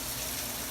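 Running tap water gushing into a sink while hands are washed with soap, a brief steady wash of broadband noise heard alone.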